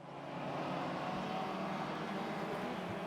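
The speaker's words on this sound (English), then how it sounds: "Now, Renault on the attack against Yuri Kurtesheva" A Renault race car engine in the RaceRoom racing video game, a steady droning roar held at constant volume, with no talk over it.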